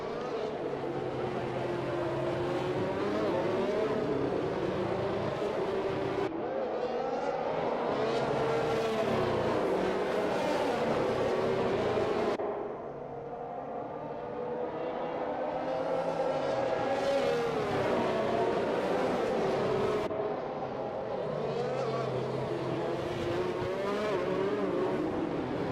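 Simulated Formula 1 cars at the Baku street circuit in F1 2021 scream at high revs, with rapid gear shifts and repeated surges in pitch as they race continuously with no pauses.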